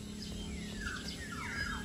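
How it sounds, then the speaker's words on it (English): Chestnut munias, small maroon finch-like birds, chirp from a tree in a few faint, thin high calls and short descending notes over a steady low outdoor hum. "I just saw the most beautiful chestnut munias in the tree."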